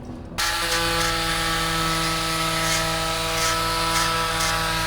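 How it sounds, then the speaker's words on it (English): Power tools sanding and grinding on the deck of a catamaran under refit at anchor, a loud continuous whine with steady droning tones and no pauses, close by. "the guys that are working on the deck can do lots of sanding and grinding and make noise"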